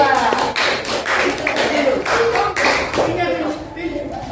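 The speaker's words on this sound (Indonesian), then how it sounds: "Tepuk tangan untuk kelompok 2." A classroom group claps for a student team, a few seconds of dense, close hand claps with scattered taps and voices mixed in.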